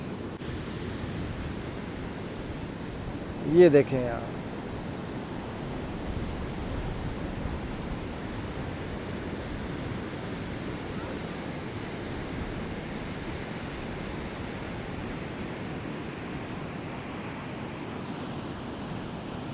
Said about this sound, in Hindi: और आवाज़ सुने लहरों की